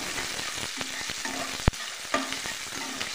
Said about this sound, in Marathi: आणि कोथिंबीर, कांदा व्यवस्थित भाजून घेते 2 मिनिटं।